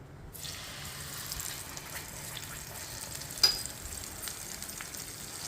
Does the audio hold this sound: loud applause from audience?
no